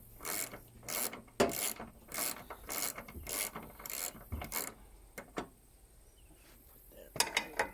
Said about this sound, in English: You just take the nuts off